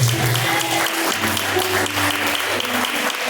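A church congregation claps in praise during a live worship service, a loud sustained mass of hand claps with a faint tonal hum of instruments beneath.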